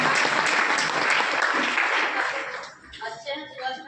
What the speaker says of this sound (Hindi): एक बार तालियां होनी चाहिए आपके लिए